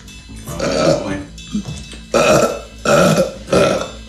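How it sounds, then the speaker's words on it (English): A series of loud, close, throaty burps, four or five drawn-out belches in a row with short gaps between them. "No, it was a burp that went the wrong way."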